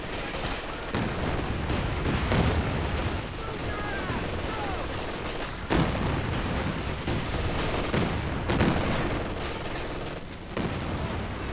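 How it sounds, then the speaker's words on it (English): A Calliope rocket artillery barrage fired near maximum range in Company of Heroes 2, with a dense roar of launches and impacts. Heavy booms land every few seconds over continuous battle noise and a voice talking. "So first up we're going to do a Calliope close to max range."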